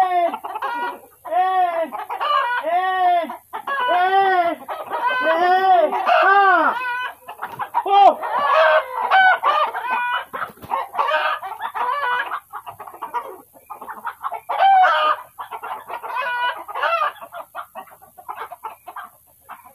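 Rhode Island Red chickens from Kedah clucking and squawking close by, a run of rhythmic repeated clucks followed by busier overlapping calls from several birds, with no talk.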